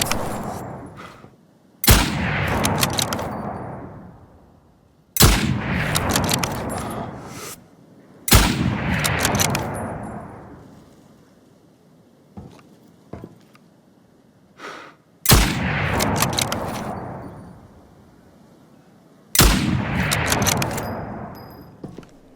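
Rifle shots in the video game Incursion Red River, picking off enemies patrolling around warehouse buildings: five loud, sharp reports spaced a few seconds apart, each followed by a long rumbling echo tail, with faint clicks between.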